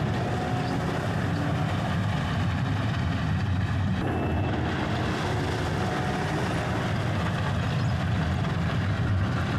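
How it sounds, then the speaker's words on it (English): A Vermeer machine drives in carrying gravel for a driveway job. Its engine and rolling noise make a loud, continuous rumble that fills the whole stretch, with no voices. "Now here we had our Vermeer coming in to bring in some additional gravel underneath."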